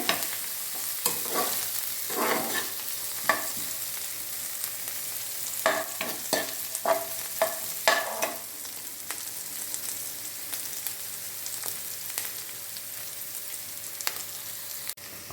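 Spinach stir-fry for cheera thoran sizzles in a pan under a steady frying hiss, with irregular scraping and stirring strokes that cluster early and then thin out, heard close with no talking.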